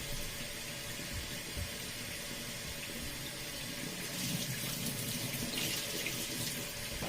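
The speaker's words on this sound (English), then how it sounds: "So I'm going to add water." Water runs steadily from a kitchen tap, a continuous splashing rush that swells slightly louder toward the end.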